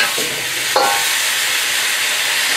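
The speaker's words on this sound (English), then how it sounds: "Give them a quick stir." Beef and mixed vegetables stir-frying in soybean paste in a hot pan, a steady sizzling hiss throughout with a brief scrape of stirring near the start, close and continuous.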